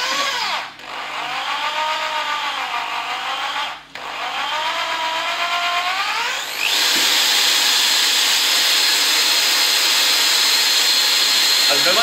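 A small electric drill with half the power of a larger one whines, briefly stopping twice, then settles into a louder continuous buzzing run.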